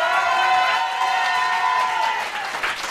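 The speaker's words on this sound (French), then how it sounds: "je vous demande d'applaudir très fort Steph." A comedy show crowd applauds and cheers loudly as a performer is introduced, with dense clapping and a sustained rising whoop over it that fades slightly toward the end.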